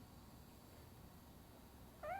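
A cat meows in the RoboCop video game, one short rising call near the end of a quiet game soundtrack.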